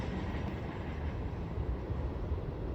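Short M558 freight train passing close by on a sunny day, a continuous broad rumble and rolling rail roar at moderate level throughout, with no voices.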